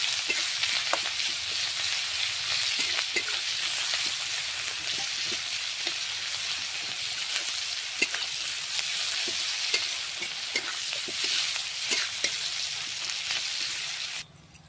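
Onions frying in hot oil with a dried red chilli and bay leaf, a steady close sizzle with frequent spatula scrapes and clicks against the pan, continuous until it stops abruptly at the end.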